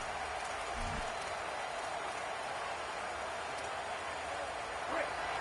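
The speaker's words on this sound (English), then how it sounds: "This crowd bringing the energy and noise early." A packed stadium crowd at a college football game roars in a dense, steady wash of noise that holds loud and even throughout, with no distinct voices standing out.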